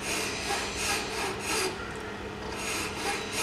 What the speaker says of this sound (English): get a sharp file and just put it on top like so